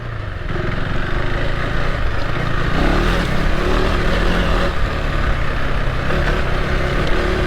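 A KTM 390 Adventure R motorcycle being ridden, its single-cylinder engine droning steadily and loudly throughout with a broad, rough engine and road roar and no pauses.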